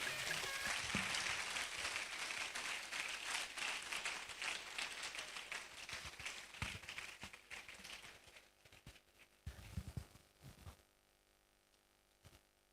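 Applause from a media summit audience for a keynote speaker, a dense spread of clapping that is faint and distant and thins out into a few scattered claps near the end.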